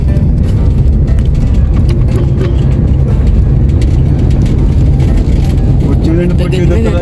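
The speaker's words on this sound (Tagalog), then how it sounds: "Tunog ng makina." Toyota Fortuner engine running steadily with a low, continuous rumble throughout, loud and close, as if heard from inside the vehicle, with people talking over it.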